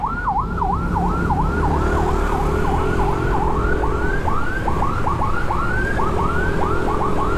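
An ambulance siren wails, sweeping up and down repeatedly over steady traffic rumble, loud and close, its rising-falling cycles quickening as it passes, heard from a Yamaha Aerox 155 motorcycle.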